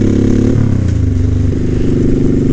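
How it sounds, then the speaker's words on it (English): A Honda 1100 Sabre motorcycle with a Cobra exhaust pipe revving up close, a loud, deep engine note that climbs and shifts pitch as the throttle is blipped, with no talking. "This Cobra pipe sounded really good on this thing."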